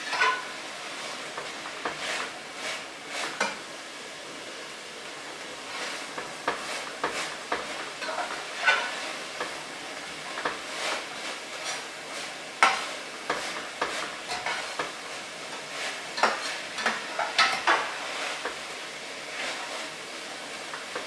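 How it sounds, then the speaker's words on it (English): Onion and celery cook in a pot for chili, giving a low continuous sizzle broken by frequent sharp stirring clicks and scrapes from a utensil against the pot, close by and without speech. "we cook a little bit more until the onion and celery are"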